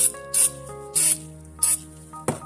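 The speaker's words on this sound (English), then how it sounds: "Spray that again." Four short, sharp hisses of a spray can, spaced roughly evenly, over a faint steady hum.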